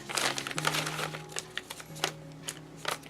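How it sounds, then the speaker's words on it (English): Paper seed envelopes of different sizes are pushed into a plastic bag, giving a run of crisp crinkling and rustling bursts, close and irregular, with brief pauses between handlings. "Put all of these different size envelopes in this plastic bag."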